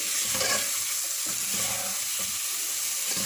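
Onion paste for chicken salan frying in a pan, a continuous loud hiss with soft bubbling and faint stirring scrapes throughout, no voices.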